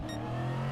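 Race car in Gran Turismo Sport pulling into the pits at Suzuka, a steady, close engine drone holding one pitch for a brief moment with no talk.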